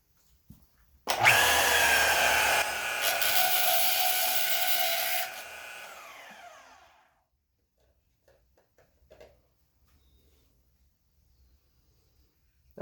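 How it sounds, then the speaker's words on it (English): DeWalt portable metal-cutting band saw (pipe cutter) in a vise-mounted stand, slicing through metal in a workshop: a loud, steady grinding whine that lasts about five seconds, then spins down, followed by a few faint clanks. "It's actually a DeWalt pipe cutter with a Woodward fab mount to put it in your vise to make it a portable table saw."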